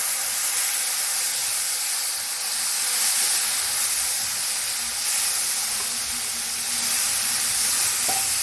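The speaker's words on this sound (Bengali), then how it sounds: "একটুখানি জল দিয়ে দেবো।" Water poured onto frying spices in a pan gives a steady, close steam hiss that carries evenly through the whole stretch, with faint sizzling underneath and no voices.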